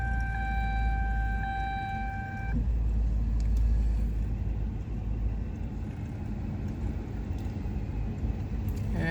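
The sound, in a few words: car engine starting and running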